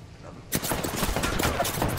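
Rapid automatic gunfire in the Apex Legends battle royale shooter, a loud burst of continuous shots erupting suddenly after a quiet half second and hammering on steadily to the end, with a voice talking underneath.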